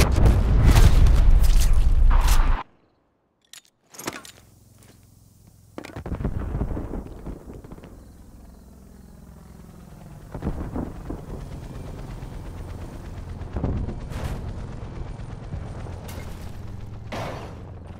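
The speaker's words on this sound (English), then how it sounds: "Artillery inbound." Artillery strike in Call of Duty: Black Ops Cold War, a loud booming blast that cuts off abruptly, followed by scattered distant explosions and rumbling impacts spread over a quieter stretch.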